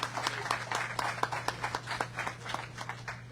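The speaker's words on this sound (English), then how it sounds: "Please give him a round of applause." Applause from an audience at an appreciation ceremony honoring grocery store employees, a steady patter of many hands clapping at moderate loudness over a low constant hum.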